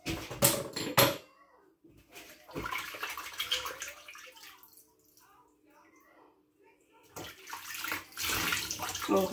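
Water splashes and runs at a sink while dishes are washed by hand, in loud bursts at the start and end with quieter clinks and a voice talking in between.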